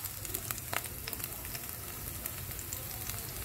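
Garlic sizzles and browns in a pan for Filipino garlic rice, giving a soft, steady crackle with scattered small pops that stays quiet and continuous throughout.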